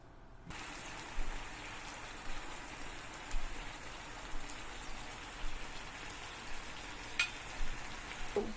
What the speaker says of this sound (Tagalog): At dahil kumukulo na ang ating sauce